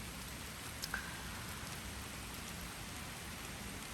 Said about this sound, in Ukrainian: Ось такий у нас дощик причудовий літній. Поливає травичку і мою клумбу.